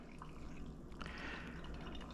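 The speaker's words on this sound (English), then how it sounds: "continue pouring the water slowly from the center outwards in a circular motion" Water is poured slowly, from the center outward in a circular motion, over pour-over coffee grounds, giving a faint, steady soft trickle with a few light drips and no talking.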